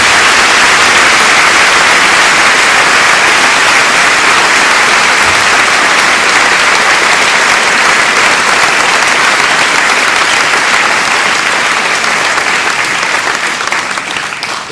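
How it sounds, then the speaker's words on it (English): Loud, dense applause from an audience at a pre-prom school program, a continuous roar of many hands clapping that holds steady for about fifteen seconds. "Can we please give them one more round of applause?"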